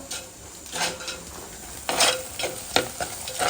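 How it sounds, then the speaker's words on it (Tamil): Onions sautéing in a clay pot, soft sizzling broken by a few scraping stirs of a spoon against the pot, close and fairly quiet with no talking. "ஆனியன் வதங்கிடுச்சு, தக்காளி பழம் போட்டு வதக்கிடலாம்."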